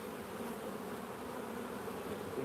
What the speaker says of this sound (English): I'm not sure if you guys see her buzzing my face like that.